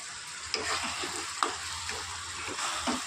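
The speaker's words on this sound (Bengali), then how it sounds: "এবার এতে দেব অল্প একটু জল দিয়ে এটা ভালো করে কষিয়ে নেব" Chili, cumin and coriander powder masala fries with a splash of water for a jackfruit and prawn curry, a quiet soft sizzle broken by repeated spatula scrapes and light knocks against the pan.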